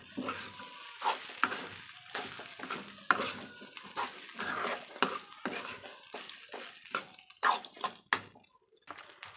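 Cooked rice is added bit by bit to a pan with okra and stirred and fried, giving repeated scraping stir strokes over a soft sizzle, fairly close and moderately loud with no talking.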